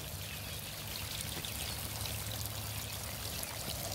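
Irrigation water runs steadily through a community garden system at reduced pressure, a continuous broadband rushing hiss with no breaks and no talk.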